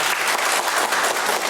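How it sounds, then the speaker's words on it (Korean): Steady applause from a church congregation fills the clip, a dense wash of many hands clapping at once, continuous and fairly loud. "지금 빨리 박수 치세요"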